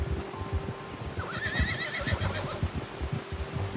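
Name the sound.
horse neighing in video game Red Dead Redemption 2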